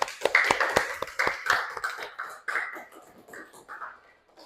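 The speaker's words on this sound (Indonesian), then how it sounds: "berikan tepuk tangan untuk semuanya" Classroom students clapping for everyone after a maths exercise, a burst of sharp, fairly close hand claps that starts strong and gradually thins out and fades over several seconds.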